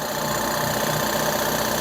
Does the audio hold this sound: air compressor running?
yes